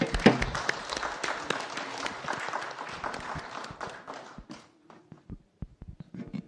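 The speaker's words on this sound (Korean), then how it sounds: "특별히 한번 박수 한번 드렸으면 좋겠어서요." Congregation at a Sunday service in a Los Angeles United Methodist church applauds a visiting pastor. Dense clapping runs for several seconds, then thins to scattered, isolated claps as it dies away.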